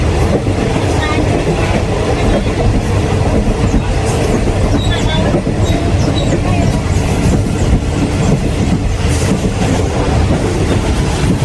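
A train rumbles loudly along the tracks in Trang Province, Thailand, its wheels clattering in a steady rhythm, heard up close from on board.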